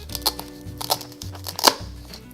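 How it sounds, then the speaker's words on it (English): A knife cuts into a toy velcro egg, giving a few short scraping crunches and a sharp tearing snap near the end, close and fairly loud against a quiet room. "Let's cut this egg open."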